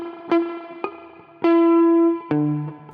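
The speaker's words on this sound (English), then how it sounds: "you should put a little bit of flesh of your palm on top of the string," Several short, damped guitar notes struck near the bridge with the palm muting the strings, giving a dull marimba-like pluck, with one longer ringing note in the middle; close and clear, with no talking.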